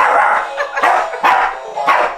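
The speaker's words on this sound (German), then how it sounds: "der Filou sitzt jetzt da unten, seht ihr nicht, und bellt die Timis an" A dog barks from below in a house, three or four sharp, loud barks spaced about half a second apart, close by and with no talk over them.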